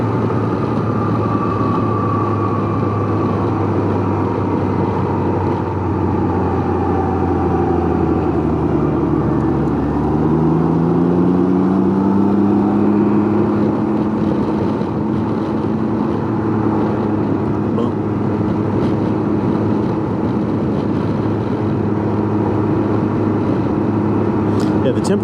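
A Can-Am Ryker three-wheeled motorcycle cruising along country roads, its engine a steady loud drone with a smooth pitch shift midway as it changes speed, wind buffeting throughout while a rider talks over it.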